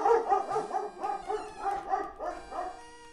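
Dog-like barking cry from a Pokémon video game, a rapid series of yipping, whimpering barks that rise and fall over about three seconds, clear and unaccompanied.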